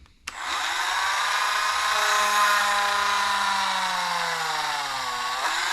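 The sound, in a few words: Dremel rotary tool punching holes with 2.5mm bit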